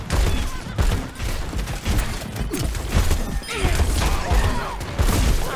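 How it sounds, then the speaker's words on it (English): Rapid turret gunfire in Overwatch 2 chatters continuously amid dense game combat noise, with crashes and impacts layered throughout and no talk. "Turret up top, I'm in trouble. Turret got me."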